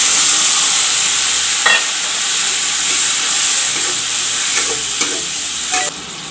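Masala paste for a drumstick curry fries loudly in a pan, giving a strong, continuous hiss and sizzle broken by a few scraping stirs and clinks. The sound cuts off abruptly near the end.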